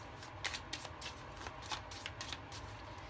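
Oracle cards being shuffled by hand for a tarot reading, a steady run of soft papery riffles and flutters close up, repeating through the whole stretch with no talk.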